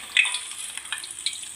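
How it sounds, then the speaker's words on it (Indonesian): Shallots and garlic crackle and sizzle in hot oil with a steady hiss and occasional sharper pops, close by and fairly quiet. "Kita goreng ya sampai setengah matang."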